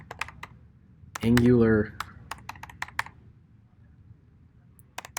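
Computer keyboard typing a command: scattered sharp key clicks, some quick and clustered, others spaced out, close and dry, with a short spoken word breaking in partway through.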